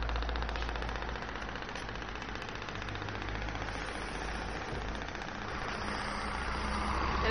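Small traditional Maltese boats by the seaside at St Julian's, engines chugging in a low, rapid, knocking idle, steady and unbroken under distant ambient hiss.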